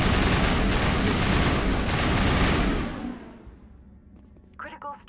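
Dense gunfire in Mass Effect Legendary Edition, a loud sustained barrage of rapid shots and booms that cuts off after about three seconds, leaving a quiet tail with a voice speaking near the end.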